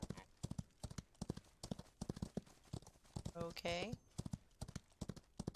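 Horse hooves clip-clop in a steady walking rhythm on a ride across the prairie, close and distinct, while someone briefly speaks over them partway through.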